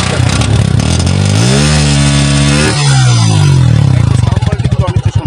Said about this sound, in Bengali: এবার আমি আপনাকে বাইকটার সাউন্ড কোয়ালিটি দেখাবো।